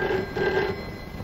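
A telephone ringing with a sustained electronic bell tone, clear and alone, in a brief stretch with no talk.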